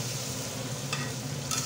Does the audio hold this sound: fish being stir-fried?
yes